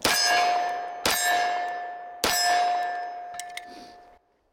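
Three loud pistol shots from a Dan Wesson Kodiak 10mm 1911 fired single-handed, about a second apart, each with a bright metallic ring that lingers, followed by faint small clicks.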